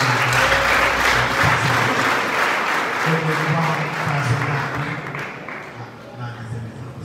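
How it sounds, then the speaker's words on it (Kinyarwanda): An audience in a church gathering applauds loudly to welcome guests, dense sustained clapping that gradually thins toward the end, with voices and a shout or two mixed in. "Munyemere tumwakire dukomera amashyi cyane."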